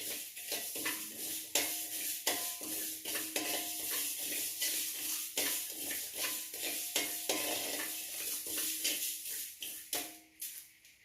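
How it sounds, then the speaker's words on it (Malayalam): Ingredients dry-roasting in a pan at home, a soft crackle punctuated by rhythmic scraping strokes of a spoon against the metal, fairly quiet and close with no talking. "അപ്പം അതൊന്ന് വറുത്തിട്ട്"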